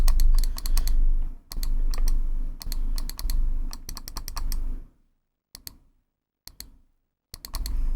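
Rapid clicking of a computer mouse on an Amiga running a frozen game, sharp taps in fast bursts with brief pauses, loud and close, with a low background hum that drops out partway through.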